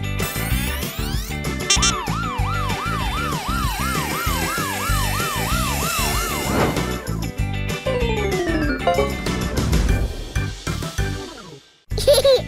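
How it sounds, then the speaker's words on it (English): A toy police car siren wails in a rapid repeating up-and-down pattern, loud and close, with rattling mechanical clatter underneath, then cuts out near the end. "police car."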